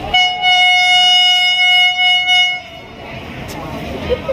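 A train at Hua Hin railway station in Thailand sounds a long, loud horn for roughly two and a half seconds, then gives way to station rumble and background voices.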